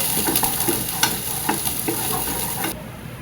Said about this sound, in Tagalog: Igisa lamang ang bawang, ang sibuyas, pagkatapos halu-haluin.